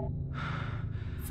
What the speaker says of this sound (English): stop breathing like that